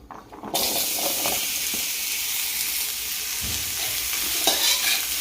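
Pumpkin pieces tipped into a spoonful of hot oil in a pan for a fasting-day vegetable dish, followed by a steady close sizzle and frying hiss with light stirring scrapes throughout.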